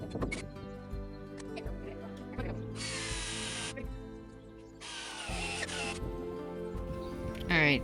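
A power drill whirs in two bursts of a few seconds each, high and close, between stretches of quieter background noise.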